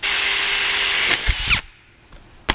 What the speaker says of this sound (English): Time to get the drill out.